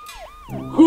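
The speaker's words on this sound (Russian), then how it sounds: "Это скорая проехала!" Ambulance siren passing on a street, its wailing tone sweeping down and up in quick glides before a louder, harsher burst takes over at the end.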